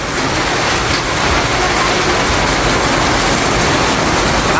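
Heavy rain pours down outdoors, a loud dense unbroken hiss that fills the whole stretch without letup.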